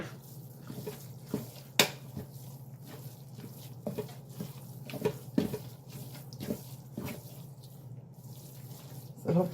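Water runs from a kitchen tap while cornbread dressing is being made, a faint, steady trickle with a few small clinks and drips under a low hum.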